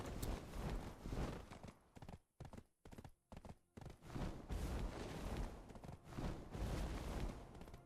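Horse hooves clip-clopping in the online game Black Desert Online, a loud, rapid stream of hoofbeats that briefly breaks into scattered hits before resuming steadily.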